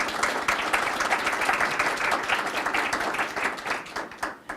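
A round of applause for the county sheriff at a public budget presentation, dense and steady clapping from an audience throughout, tapering slightly at the end.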